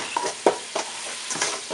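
Sugar melting and caramelizing in a pan for caramelized pork and peanuts, with a faint sizzle and several distinct stirring scrapes and clinks spaced out over the hiss.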